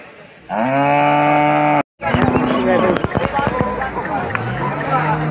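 A cow at the Loni cattle market gives a long, loud, low moo, then another rising moo later, amid clattering, busy market bustle and people talking nearby.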